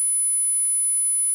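Simulated whistling tinnitus tone: a thin, steady high-pitched whistle held evenly throughout, with nothing else present.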